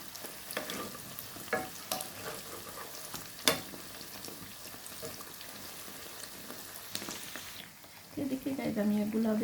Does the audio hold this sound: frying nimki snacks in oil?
yes